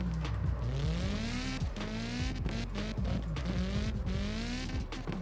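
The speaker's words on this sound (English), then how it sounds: "Bit of left foot braking to try and bring us back out in the corner." A drifting car in CarX Drift Racing 2 holds a steady high-revving engine drone with rising and falling pitch sweeps as it slides, with continuous tyre noise underneath, loud and close throughout.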